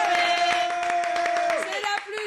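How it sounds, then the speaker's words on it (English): An audience applauds for young Cameroonian actress Faith Fidel: quick, rhythmic claps rattle underneath a sustained, ringing tone and a voice, then thin out near the end. "On va applaudir pour Faith."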